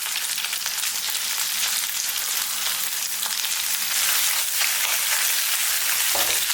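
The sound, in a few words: fish pieces pan-frying in oil over medium-low heat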